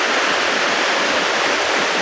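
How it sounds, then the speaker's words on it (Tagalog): Heavy rain pouring down outside a house in a steady, dense wash of hiss with no breaks, loud and close. "Sobra po talagang lakas ng ulan ngayon dito."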